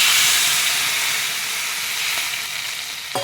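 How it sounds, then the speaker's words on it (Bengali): Water hits a hot pan of spiced food and sets off a loud steamy sizzle and hiss that slowly fades, then a short clink near the end. "আমি একটু নেড়ে চেড়ে একটু জল দিয়ে দিচ্ছি"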